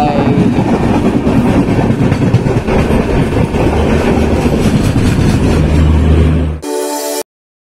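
Falaknuma Express rolling along the line, a steady loud rumble with rail clatter filling the first six seconds before the sound cuts abruptly into a brief different burst at the end.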